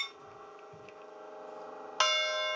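A church bell is struck while being tuned, the first tone ringing on before a second sharp strike about two seconds in sets off a bright, sustained chime with long harmonic decay.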